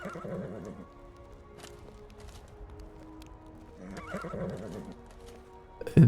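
Horses neighing in the video game Skyrim, two loud whinnies with falling, wavering pitch, one at the start and another midway, over a steady ambient bed of soft hoof clops and distant town noise.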